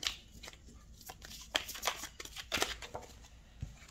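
Tarot cards are shuffled and drawn for a reading, giving soft irregular riffles and flicks of card stock, close but faint, with a few light slaps.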